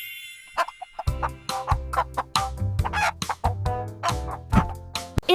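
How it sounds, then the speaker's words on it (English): A chicken clucks in rapid, uneven bursts, close and loud, with a rooster-like crow opening the sequence and short sharp calls repeating throughout; no talking. "Chicken."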